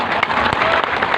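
Brief burst of audience clapping during a public oration at UMNU Kebumen, a dense, steady patter filling the short moment with a few sharper claps standing out.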